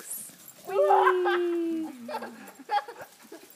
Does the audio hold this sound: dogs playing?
yes